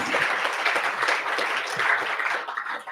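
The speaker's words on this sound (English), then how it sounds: "Let's give everyone a round of applause" An audience at a democracy anniversary celebration claps for a panel of speakers in a steady, full round of applause that holds for a few seconds before starting to thin.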